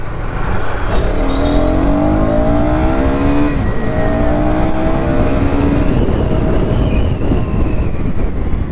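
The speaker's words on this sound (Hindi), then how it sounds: "जब गली से निकलता हूँ ना इतने दूर में बाइक खींचने में मेरे को बहुत ज़्यादा मज़ा आता है" A KTM Duke 250 motorcycle is pulled hard out of a lane, its engine revving loudly and climbing in pitch through the gears, close and continuous.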